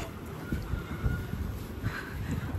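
Steady wind on a cold day buffets the microphone in a continuous low rumble and hiss, constant and fairly loud throughout with no talk.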